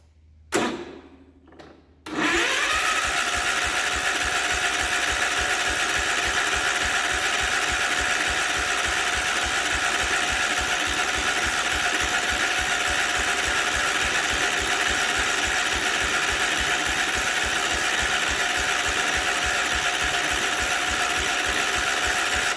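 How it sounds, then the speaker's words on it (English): A 1967 Gravely 430 tractor engine cranks at length while the pump primes and the carburetor fills with gas, a steady rapid mechanical chugging, loud and close, after a brief rattle at the start. "the reason it's cranking so long is we're trying to prime up the pump and fill the carburetor up with gas"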